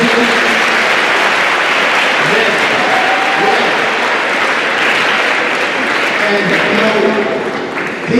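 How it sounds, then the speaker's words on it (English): A high school assembly crowd claps in appreciation, a loud, sustained roar of dense applause that runs unbroken for over eight seconds, with voices mixed into the noise. "Could you give them a hand clap of appreciation?"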